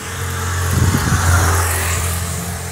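A car passes on the road coming down from the mountains, a steady engine hum swelling briefly in the middle of the clip over a constant low rumble, heard from a roadside viewpoint.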